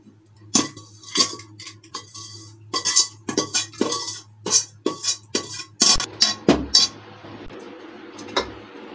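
Roasted grated coconut and melon seeds being scraped from a wok into a wide parat plate while making panchmewa paag, a series of close metallic scrapes and clinks in irregular bursts over a low steady hum.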